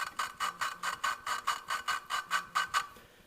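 A valve stem is worked back and forth in the cylinder head of a 1996 Hyundai Accent during valve lapping, giving about a dozen evenly spaced rasping, grinding strokes, close and moderately loud, with no talk.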